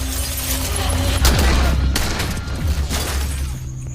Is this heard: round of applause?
no